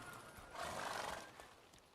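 Roach, Geralt's horse in The Witcher 3 video game, gives a faint, distant whinny lasting about a second, over soft clip-clop hoofbeats and quiet background ambience.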